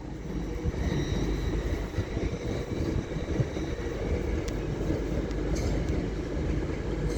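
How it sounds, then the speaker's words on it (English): LNER Zoomer intercity train from Edinburgh Waverley to London King's Cross arriving at Doncaster station on the East Coast Main Line, a loud, steady low rumble of wheels and traction with faint high whine and squeals throughout, no voices. "And now coming in is another LNER Zoomer to London King's Cross from Edinburgh Waverley"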